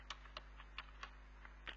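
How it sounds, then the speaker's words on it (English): Light computer keyboard key presses tapped out one at a time, about seven keystrokes in an uneven rhythm, close and quiet against a low hum. "I'm just typing"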